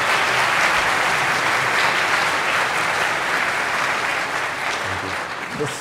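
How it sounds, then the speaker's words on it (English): A conference audience at FOSDEM 2013 applauds in a full, sustained wash of clapping that eases slightly toward the end. "Could we give them an applause and thank them?"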